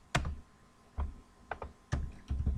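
Computer keyboard keys clacking as CSS code is typed, a handful of separate close taps with uneven gaps between them, crisp and fairly loud, with no talking.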